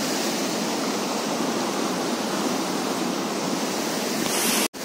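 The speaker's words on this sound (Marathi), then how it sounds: "एकदम पाण्याचा खळ खळ आवाज येतोय" Water rushes and gurgles steadily at Tapovan in Nashik, a dense continuous wash of flow that stays even throughout and cuts off abruptly at the very end.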